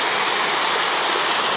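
A stream of flowing water on a Connecticut hiking trail rushes loud and close, a dense, even wash of water noise with no pauses and no voices.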